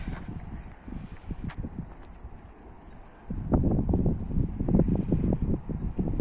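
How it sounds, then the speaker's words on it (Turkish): Gentle wind rumbles at low volume over the microphone among olive trees on a cool winter day, swelling louder partway through, with faint irregular knocks scattered throughout. "Hafiften böyle rüzgar da var."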